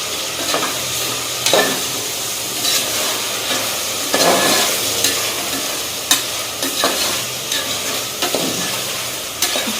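Green chilli chicken being stirred and fried in a pan, a steady sizzle with repeated scraping strokes of the spoon through the mixture, close and continuous with no talking.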